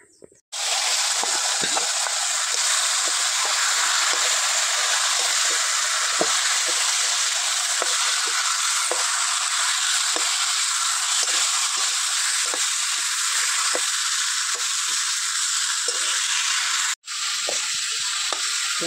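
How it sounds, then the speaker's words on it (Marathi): Fish frying on a wood-fired village stove for a spicy fish curry, a loud, continuous close-up sizzle that holds steady throughout, with a brief cut near the end. "मस्त पैकी आपला मासा फ्राय झालेला आहे चुलीवर"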